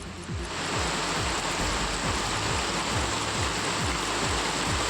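Heavy rain pours steadily over a flooded village, a dense, loud, continuous hiss of falling water with rushing floodwater and no voices.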